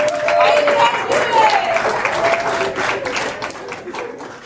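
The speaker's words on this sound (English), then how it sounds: "So give ourselves a round of applause." Crowd applause at a food bank event rises as a dense, steady wash of clapping that holds for several seconds and thins slightly toward the end, with a voice talking over it.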